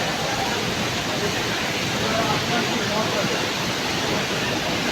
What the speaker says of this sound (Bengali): এত পরিমাণে বৃষ্টি হচ্ছে যে বন্যায় পরিণত হয়ে গেছে।